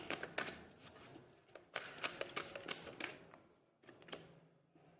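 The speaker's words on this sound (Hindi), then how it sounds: "एक कार्ड और निकाल लेते हैं" Tarot cards are handled and one is drawn from the deck, giving quiet, close papery flicks and brisk shuffling snaps in short clusters, with no voice over them.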